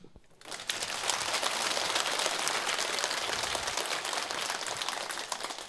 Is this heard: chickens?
no